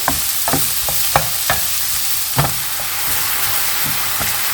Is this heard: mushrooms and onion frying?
yes